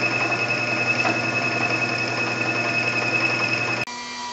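A milling machine cuts steadily with a continuous whirring drone and high whine, close and even, then stops abruptly near the end, leaving a faint hum.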